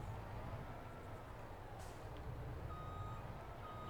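Truck reversing beeps from Farming Simulator 22, a steady electronic backup tone repeating over a constant engine and vehicle rumble, moderately loud with no talking.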